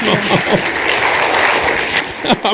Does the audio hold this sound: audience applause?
yes